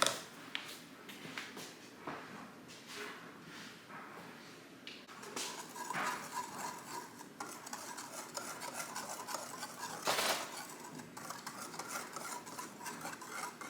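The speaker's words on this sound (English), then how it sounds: "Actually, we're going to whisk it in." A whisk stirring salt and baking powder into gluten-free pizza batter in a bowl, steady close scraping and rubbing strokes with a few sharper clinks, fairly quiet and continuous.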